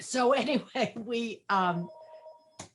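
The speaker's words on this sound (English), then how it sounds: "the phone started ringing" A telephone bell rings near the end after talk, giving a steady tonal ring of roughly a second followed by a short burst, with conversational voices dominating the first half.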